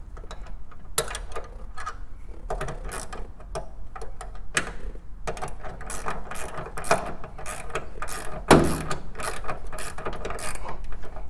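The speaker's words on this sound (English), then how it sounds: "you're going to need a 1/2 inch wrench and a 13 millimeter on this other side to get that tightened up." A half-inch wrench tightens a nylock nut on a stainless steel flange while installing a trail door, giving rapid close ratcheting clicks in bursts with short pauses and a louder clank near the end.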